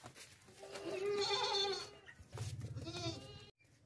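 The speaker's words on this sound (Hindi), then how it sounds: "लंबे कानों वाला देसी बकरा" A long-eared desi billy goat bleats in two drawn-out, wavering cries close by, the second lower and more nasal, ending abruptly with no talk.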